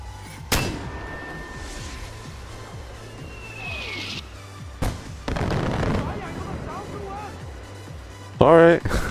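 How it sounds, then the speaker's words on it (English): A bomb goes off in the Far Cry 4 video game, with sharp booming blasts and crackling debris followed by rumbling, amid other game sounds. "I'm just gonna drop a bomb here."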